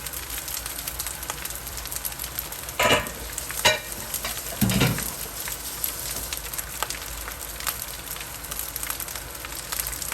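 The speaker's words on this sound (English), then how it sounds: "Listen to that beautiful quacking song it's making, like the noise the rice is frying." Steady crackling sizzle of rice frying in a pan for pepper shrimp fried rice, with a few louder scraping stirs and clatters partway through.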